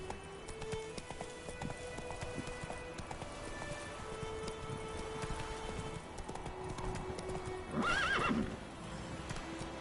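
Roach the horse gallops in a video game, hooves drumming in a quick steady rhythm under faint ambient music, then a sharp, loud neigh rings out near the end.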